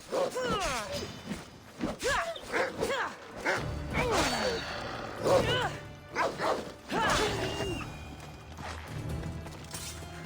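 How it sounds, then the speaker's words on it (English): Wolves in the video game Assassin's Creed Odyssey giving generic dog barks and yips in quick bursts amid combat whacks and clashes, over game music. "It's kind of funny that they have the generic dog bark sound."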